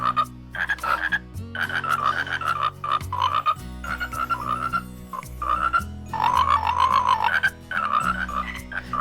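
A frog character at a church gathering at Valley View gives a run of repeated, close croaks lasting several seconds, with a low steady hum underneath.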